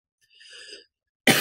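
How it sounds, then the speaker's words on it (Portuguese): A faint breathy sound is followed by silence, then one loud, abrupt cough right up close from a man with a cold and sore throat. "Perdão pela tosse"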